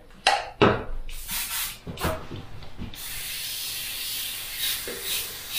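An airbrush sprays opaque paint at 25 PSI, a steady close hiss of atomizing air that runs continuously after a few short bursts and clicks at the start.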